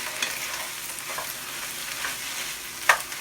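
Tomato paste for borsch is mixed in a pan with a soft, steady sizzle, ending with a single sharper scrape of the spoon.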